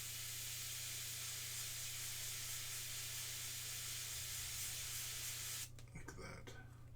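Airbrush hissing steadily as it sprays paint onto a Funko Pop Warhammer 40,000 Intercessor figure, a continuous close, even spray with a low steady hum beneath, cutting off abruptly near the end.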